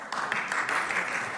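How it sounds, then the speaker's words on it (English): A weak, thin round of applause from a small audience at a talk on anti-Semitism, scattered claps forming a brief, soft patter. "that was a weak round of applause for Moshiach is coming"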